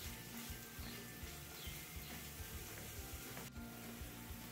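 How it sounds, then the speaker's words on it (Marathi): Sliced onion sizzling in hot oil with dried red chillies and asafoetida over a medium flame, a steady close crackle and hiss with light stirring scrapes and one brief sharp knock near the end. "आता आपल्याला हा कांदा छान लालसर रंगावरती परतून घ्यायचा आहे"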